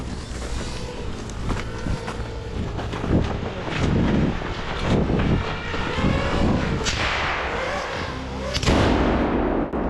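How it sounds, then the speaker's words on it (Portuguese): A Russian drone closes in over a battlefield, its engine mixed with wind noise and broadband crackle, followed by several sharp bursts of gunfire that bring it down; loud, continuous and chaotic throughout. "E logo você pode ouvir um drone se aproximando."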